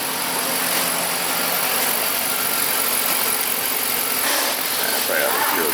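A GM 5.3 V8 engine with a failed injector runs steadily after starting, giving a dense, loud mechanical roar with a rough, uneven undertone from the misfire, heard alone without speech.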